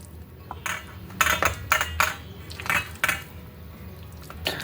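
Mewa paak, a dry fruit sweet, scraped and spread with a spoon onto a ghee-greased steel plate, giving several irregular metallic clinks and scrapes, close and without talk.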